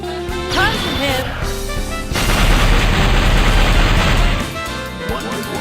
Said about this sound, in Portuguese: um outro movimento especial que ela tem é um que ela chama o navio dela, que se acerta o oponente, começa a atirar muito nele depois